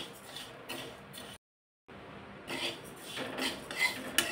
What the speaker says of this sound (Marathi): आता हे तांदूळ आणि उडीद डाळ आपण एकत्र भाजून घेणार आहोत।